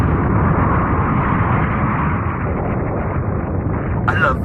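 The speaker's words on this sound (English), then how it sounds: "I love the sound of explosions." A loud, sustained explosion rumble from an anime episode, a dense roaring blast that fills the clip and fades near the end under a brief voice.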